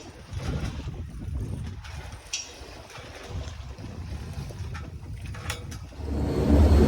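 A sailboat motors slowly under engine through waves off Charleston for lack of wind, giving a steady low rumble mixed with wind buffeting and water wash that swells louder near the end, with no voices.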